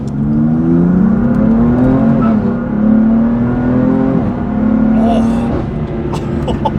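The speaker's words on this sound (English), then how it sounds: "can hear some really good induction noises as we go for the first ride" A BMW M4 GTS fitted with carbon fiber Eventuri intakes pulls hard on a drive, its engine and intake note rising and falling in a loud, close drone with shifting pitch through several throttle changes.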